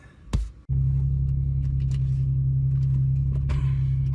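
Car driving on the way to the gym, a steady loud low engine rumble and road hum that holds evenly after a brief jangle and thump at the start.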